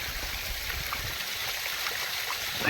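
Pressurised water gushes out across a farm field in a constant, full rushing flow with a faint bubbling texture, loud and unbroken throughout.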